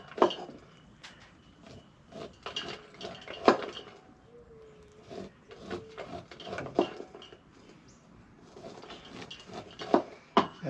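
A knife scrapes kernels off ears of fresh corn outdoors, the cut kernels falling into a cake pan below, making repeated short scraping and tapping strokes at close range, irregular in rhythm and moderately loud.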